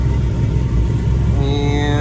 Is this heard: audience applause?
no